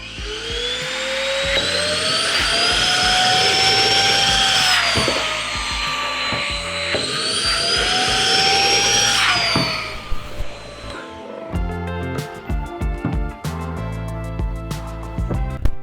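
Dnipro-M DVA 200BC cordless vacuum cleaner whining loudly, its pitch rising and falling as suction changes, then stopping and giving way to quieter clicks and knocks.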